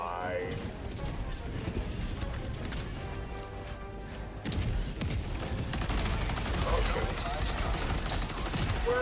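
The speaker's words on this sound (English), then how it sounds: "It's an orbital napalm barrage." An orbital napalm barrage in a video game, a dense, continuous roar of rapid explosions and crackling blasts that keeps going throughout and swells louder near the end, with voices talking over it.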